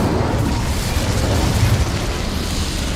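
A fire spell, Incendio, cast in the Hogwarts Legacy video game: a dense, sustained roaring burst with heavy low-end rumble that stays loud and steady throughout, with no voices.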